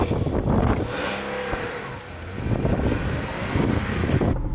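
A Porsche 986 Boxster S engine pulls and accelerates on the road, loud and close, with wind rush over the microphone and the revs dipping briefly midway before building again.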